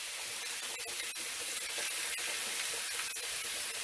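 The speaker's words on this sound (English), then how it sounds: "we're going to slow grill it so it can cook the middle of the meat" Lemon pepper pork chops sizzle on a grill, a steady close crackling hiss with scattered sharper pops and spits throughout, no voices.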